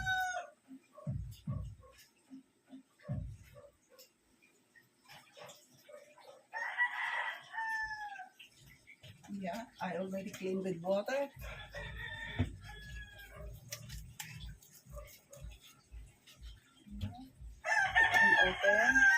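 Live chickens cluck and a rooster crows several times at moderate distance in a home kitchen, mixed with clatter of cooking and brief talk from a woman.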